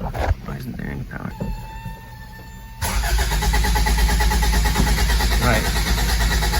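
Engine cranking on a 1985 Toyota MR2 with a no-start fault: a quieter mechanical clatter, then a loud, sustained churning whir of the starter turning the engine without firing, with a voice heard over it.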